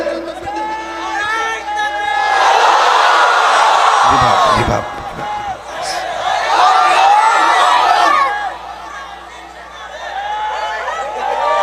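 A large crowd at an Islamic religious gathering (mahfil) shouts takbir in unison, loud massed voices rising in waves of chanting and cheering, pausing briefly and then swelling again.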